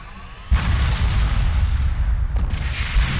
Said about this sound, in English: Not as big of an explosion as I was hoping for.